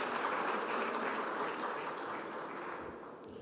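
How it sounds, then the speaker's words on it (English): A roomful of people at a policy forum applauds, a broad wash of clapping that stays fairly even and eases off slightly toward the end. "Please, a round of applause"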